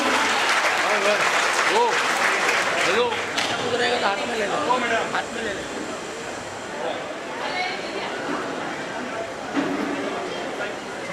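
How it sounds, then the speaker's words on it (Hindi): Audience at a notebook distribution event clapping to welcome a guest, sustained applause under a loud voice over a speaker system, with the clapping thinning out partway through. "कृपया तालियां बजाएं, उनका स्वागत करें"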